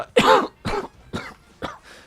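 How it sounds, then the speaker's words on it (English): A rough, crusty cough repeated in four or five short bursts, close and fairly loud, each fading a little weaker than the first, with brief gaps between them. "Crusty ass cough"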